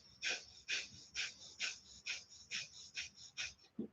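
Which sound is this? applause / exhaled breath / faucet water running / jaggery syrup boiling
exhaled breath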